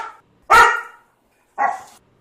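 A dog barks twice nearby, one sharp loud bark and then a slightly softer one about a second later, with silence between them.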